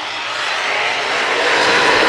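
Race cars roar past on the track at Valley Speedway, a small racetrack, during an end-of-season race. A loud, steady, close engine roar builds slightly over two seconds, with no pause or break.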